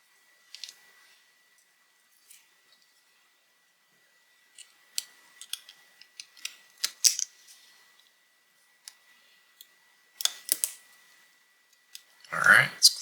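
Small parts of a modchip being fitted inside an opened Nintendo Switch console, giving scattered light clicks and snaps close by, with a louder cluster near the end.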